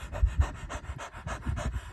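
A person imitates a thirsty dog panting: quick, rhythmic, breathy huffs repeated about eight times in under two seconds, close and fairly loud.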